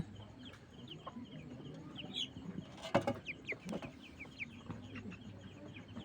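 A young coloured broiler chicken, about 27 days old, clucks in short repeated calls while being caught and weighed in a farm shed, faint and close, with some handling noise.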